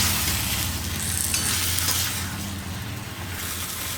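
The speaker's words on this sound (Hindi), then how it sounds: "एक बार मिक्स करके अच्छे से ढक देती हूँ मैं सब्ज़ी को" Potato and ridge gourd sabzi is stirred in a hot pan, producing a steady dense sizzle with scraping stirring throughout and no talking.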